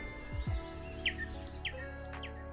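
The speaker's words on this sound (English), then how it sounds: "I've been awoken by a curious chirping noise." Birds chirping in a video game, with several short, bright chirps and tweets scattered over a couple of seconds, clear and close over a faint musical background.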